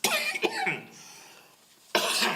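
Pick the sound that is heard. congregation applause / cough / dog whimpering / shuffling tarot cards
cough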